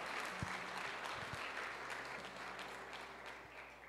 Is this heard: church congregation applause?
yes